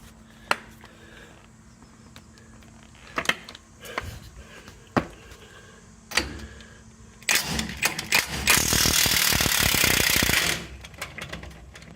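A 13/16 socket on a ratchet or impact tool works the U-bolts off the rear differential of a third-generation Dodge Ram, with sharp isolated clicks and knocks followed by a loud sustained rattling burst that stops abruptly.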